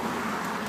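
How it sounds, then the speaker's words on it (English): Road traffic passing a garden, a steady low roar of cars going by, moderately loud and continuous over the brief moment. "Excuse the noise, the traffic is going by"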